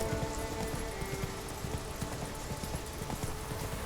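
Geralt's horse Roach galloping across Skellige in The Witcher 3: Wild Hunt, a fast, steady clip-clop of hooves over a constant backdrop of game music.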